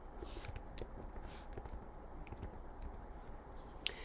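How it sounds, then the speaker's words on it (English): Typing on a computer keyboard, a steady run of soft, quiet key clicks with no voice, ending on one slightly sharper tap. "I'm going to type in the words, life is beautiful"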